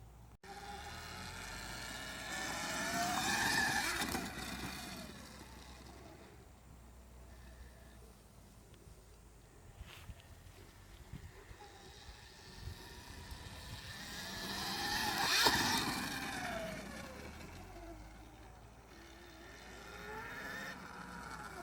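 A Sur-ron electric dirt bike in sport mode accelerating past from around ten miles an hour, rising whine swells twice as it passes, moderately distant, with faint background noise between passes.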